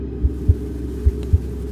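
Heartbeat sound effect of low, muffled thumps in paired beats over a deep steady hum, four soft throbs spread across the moment with no speech.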